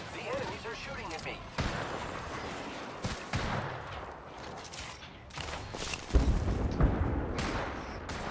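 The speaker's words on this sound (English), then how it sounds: "The enemies are shooting at me." Enemy gunfire in Apex Legends: repeated sharp shots and booming impacts scattered across the clip, some close and loud, others farther off, over game background noise.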